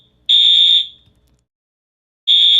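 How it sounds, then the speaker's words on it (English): A fire alarm blares with a loud, piercing electronic tone, one half-second burst, then silence, then the next burst beginning. "Faulty fire alarm."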